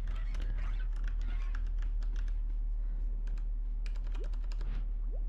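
Quick keyboard typing in irregular bursts of clicks, close and clear over a steady low electrical hum while chatting in the game Trove.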